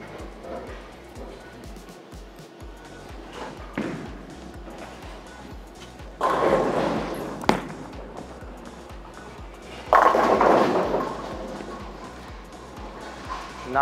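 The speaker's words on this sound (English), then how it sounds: "Got them all to fall." Bowling ball rolling down the lane and striking the pins, a low rumble building up before a loud clattering crash of pins, repeated twice, over ongoing bowling alley noise.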